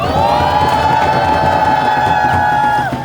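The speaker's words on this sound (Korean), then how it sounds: "여러분 힘찬 박수로 환영해 주십시오." A crowd at a candlelight rally in Sejong greets a speaker coming up to the stage, a loud, sustained mass of cheering and noise with a steady high tone running through it.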